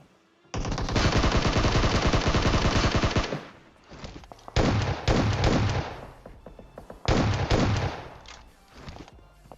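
Rapid automatic gunfire in PUBG Mobile rattles in a long sustained burst, followed by several shorter bursts separated by brief pauses, loud and close.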